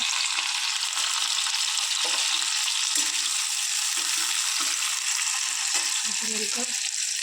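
Onion and green chili fry in hot oil, giving a steady, loud sizzle that runs unbroken throughout, with occasional stirring scrapes and low voice-like sounds beneath.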